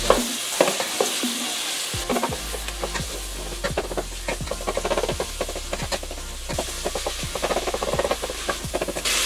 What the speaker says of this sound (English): here we have our Italian sausage, just breaking it up and getting it all nice and brown.